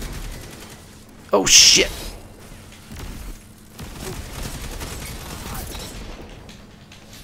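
Gunfire rings out during a Destiny 2 multiplayer match, a loud burst of shots followed by quieter in-game sounds, with a player exclaiming over it.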